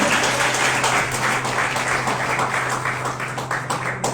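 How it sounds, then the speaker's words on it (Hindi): A seminar audience in a hall breaks into loud, steady applause for a speaker, dense clapping continuing at an even level with a low hum beneath it. "जितेंद्र पटेल जी जो हमारे बीच में मौजूद है, एक बार जोरदार तालियों से फिर हम उनको माइक देंगे।"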